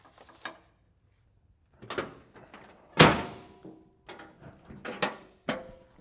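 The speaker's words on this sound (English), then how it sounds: "Tailgate shuts and locks." A vehicle tailgate is handled with a few light clunks, then slams shut with a solid thud. Several sharp latching and locking clicks follow, all close by.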